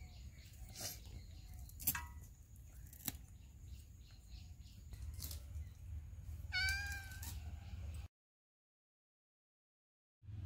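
A cat meows several times while being fed fish gills, high mewing calls that stand out against quiet rustling and clicks nearby, before the sound cuts to silence near the end.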